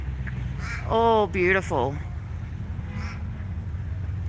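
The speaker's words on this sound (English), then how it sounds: "the birds are playing along today, which is a nice change" Birds call outside the Watergardens shopping centre in Melbourne, a few loud squawking, quacking cries close by around the first two seconds over steady outdoor hum, with someone talking.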